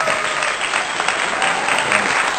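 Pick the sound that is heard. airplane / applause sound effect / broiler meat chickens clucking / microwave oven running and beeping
applause sound effect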